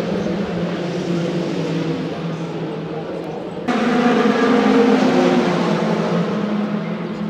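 Le Mans endurance race cars heard from beside the main straight at the 2024 race, a continuous distant roar of engines that jumps suddenly louder midway and stays as a steady, heavy drone.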